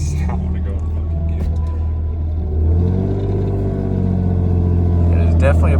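A Lexus SC300 engine accelerating past 1,000 RPM gives a steady, close, low rumble whose pitch climbs partway through, with voices talking over it.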